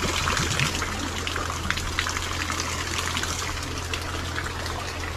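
Water from a scooping pipe gushes into a trough in a steady, close, loud rush with fine splashing throughout, over a constant low hum, and nobody speaks.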